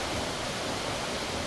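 A waterfall at SummerHill pours in a steady, broadband rush of falling water, constant and enveloping with no other sounds.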